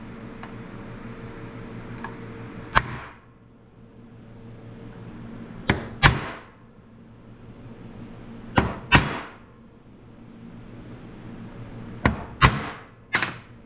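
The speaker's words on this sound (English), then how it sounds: "Get these holes punched." Heavy metallic punches land in pairs and short bursts as holes are punched in metal, sharp clanks with a brief ring, separated by pauses over a steady machine hum.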